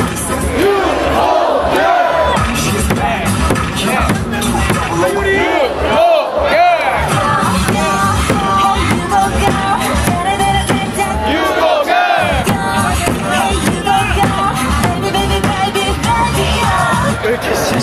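A crowd at a Hanwha Eagles baseball game cheers and chants loudly and continuously in rhythmic unison, with brief dips between chants and a voice calling over the roar.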